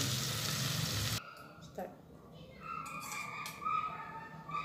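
Nepali-style garden vegetables cook in a pan, a steady broadband sizzle that drops away after about a second, leaving a softer simmer with faint clinks and scattered kitchen noises nearby.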